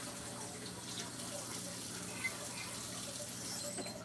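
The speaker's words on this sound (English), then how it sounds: "All you do is just bring your potato over to the sink, rinse them off" A sink tap runs steadily while potatoes are rinsed under it, a soft continuous water rush at moderate distance with faint handling sounds mixed in.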